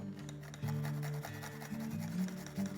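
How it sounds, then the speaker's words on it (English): Garlic cloves rasped against a grater into a small bowl, heard as a close, soft, steady scratching with slight rhythmic strokes and a faint background hum. "Carefully grate the garlic into a small bowl."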